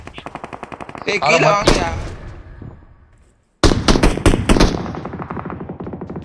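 Video game gunfire: rapid bursts from a Thompson submachine gun, loud and close, with a short pause before another rattling volley; someone shouts briefly over the shooting.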